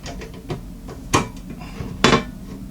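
Small screws are fitted into a Thermaltake Core P1 Mini ITX case, giving a few sharp metallic clicks and taps spaced across a short stretch, close by and without speech.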